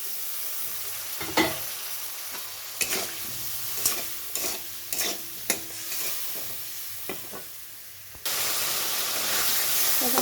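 Bengali spice paste being sautéed in a pan: steady frying sizzle with intermittent spatula scrapes, then a sudden loud hiss and spatter as a little water goes in near the end, close up and without talk.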